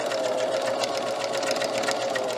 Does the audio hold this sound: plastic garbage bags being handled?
no